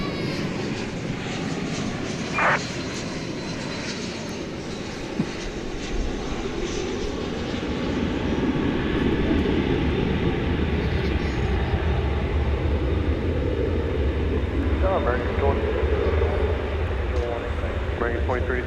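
An Airbus A321 arriving from Phoenix touches down at DFW Airport at night, a broad roaring engine rumble that swells and holds, with voices talking over it throughout.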